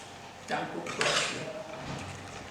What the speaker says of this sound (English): So I'm going to turn all this together to be well combined